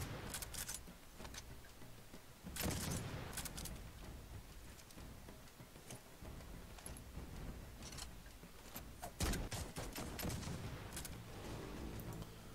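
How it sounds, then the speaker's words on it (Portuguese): Weapon sounds in CSGO Mobile during gun inspections: faint mechanical clicks, metallic handling rattles and a few sharp shot-like bursts at intervals, quiet and alone with no talking. "Vou aumentar aqui pra vocês escutarem o som das armas."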